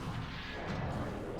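A missile fired in Metroid Prime, a loud, broad blast that fills the whole brief moment at steady volume, with no pause or tail.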